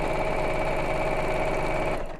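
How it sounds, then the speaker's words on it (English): Sewing machine stitching along the piping cord of a bolster cushion cover, a fast steady mechanical chatter close by, running for about two seconds and then stopping, with no talking. "I'm just going to move the needle over a little bit, so I'm sewing right next to the piping cord"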